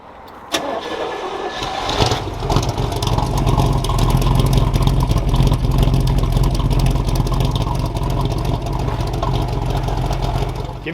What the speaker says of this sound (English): My man Jimmy's gonna fire it up. We can hear this little fuely Corvette run, 283 horse.